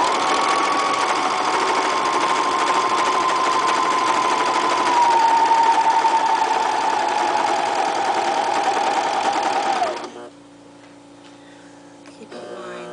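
A sewing machine stitches fabric for cat blankets in one steady, close whirring run of about ten seconds, its motor tone dipping slightly before stopping, followed by quiet handling noises.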